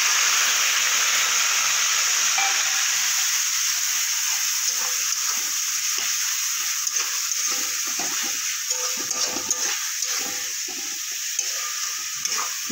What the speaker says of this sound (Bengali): এবার দিয়ে দেবো পেঁয়াজ বাটাটা।